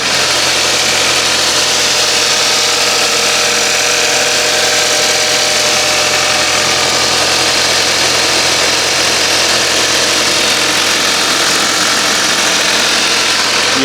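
Audi A4 B8 engine idling with the microphone held close, a steady, even mid-pitched hum and faint mechanical ticking running unbroken throughout, with no talk.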